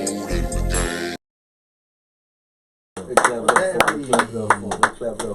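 A few people clap hands during a casual rap interview conversation. The claps are sharp and close, with talk over them after a brief silent gap.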